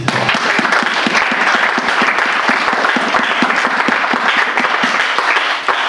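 A church congregation applauds in praise after a sermon to parents, sustained dense clapping, loud and steady throughout with no talking over it.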